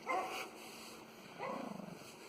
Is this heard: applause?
no